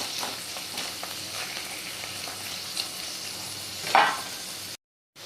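Paneer frying on a low gas flame, a soft, even sizzle with faint crackles and one brief louder spatter, heard close, ending in a short silence.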